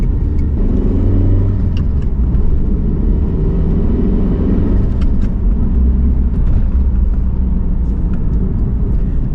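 A 1990s rally car with its exhaust fully closed drives steadily, a continuous low engine rumble and road drone filling the cabin from start to finish with no talk.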